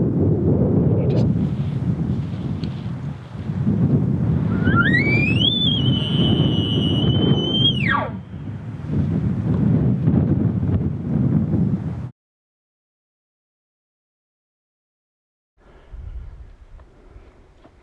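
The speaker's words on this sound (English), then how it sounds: "really windy, hard to hear" Strong wind buffeting a microphone outdoors during an Idaho archery elk hunt, a loud low roaring rumble in long gusts, with a brief rising tonal whine in the middle, then a sudden cut to silence before more wind returns.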